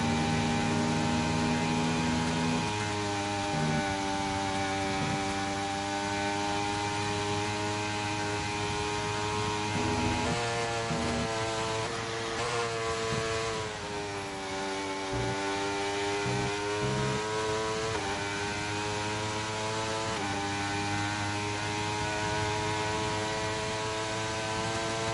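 A high-revving Formula racing car engine in a video game whines steadily on a British circuit, its pitch shifting up and down through gear changes over a long stretch, with no talking.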